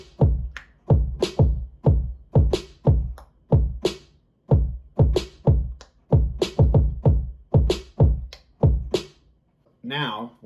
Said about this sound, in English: And the kick and the snare sounds something like this.